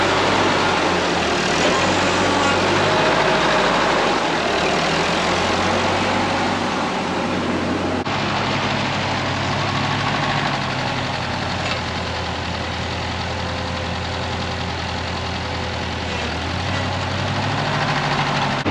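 An old Ford 8N farm tractor idles steadily and close by, a low, even rumble that holds for the whole stretch with no voices over it.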